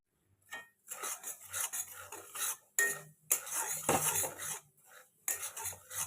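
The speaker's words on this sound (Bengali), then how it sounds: "সিম করে একটু ভালো করে ভাজতে হবে।" Semolina being dry-roasted and stirred in a pan over a low flame for upma, with bursts of gritty scraping and rattling of a spoon against the pan, loud and close, separated by short pauses.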